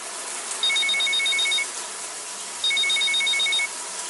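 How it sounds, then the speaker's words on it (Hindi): An electronic phone ring sounds in two bursts, each about a second long with a pause between, steady and moderately loud against a hissy background. "आपका फोन बज रहा है।"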